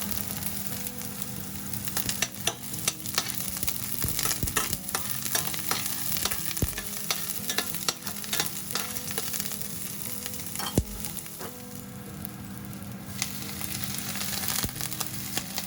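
Chopped onion sizzles and fries in a pan for a lentil and chicken casserole, a steady dense hiss with occasional stirring clatters, no talking.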